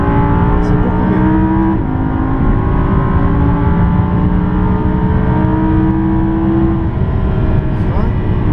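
A race car laps a circuit at a Pirelli PZero track experience, its engine droning loud and close with shifting pitch as it accelerates and brakes, steady throughout.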